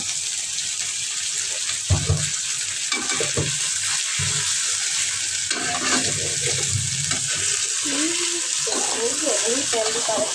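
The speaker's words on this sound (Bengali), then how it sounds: "এই তো আদা রসুন ভালোভাবে ভাজে নিচ্ছি" Ginger and garlic fry in oil in a pan, with soft sizzling and occasional stirring scrapes, plus a faint background hum, someone speaking intermittently over the cooking.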